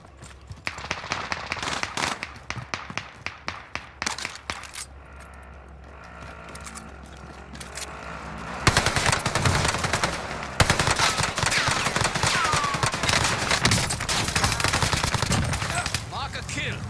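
Rapid bursts of submachine-gun fire in a shooting video game, loud and close, with repeated rattling volleys, a quieter stretch partway through, then sustained firing to the end.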